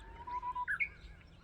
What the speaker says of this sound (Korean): 새소리 정말 성대 기름지죠